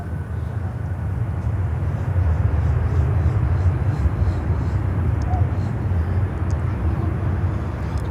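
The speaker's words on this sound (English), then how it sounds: "Another Saab departing." A Saab turboprop airliner departing an airport gives a steady, continuous low engine rumble that holds at an even level throughout, with no talk over it.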